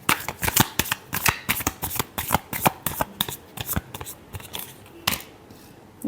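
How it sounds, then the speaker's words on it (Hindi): Tarot cards are shuffled by hand in a quick run of riffling, snapping bursts, close and crisp, slowing to a few isolated flicks near the end, with no talking over it. "Last shuffle."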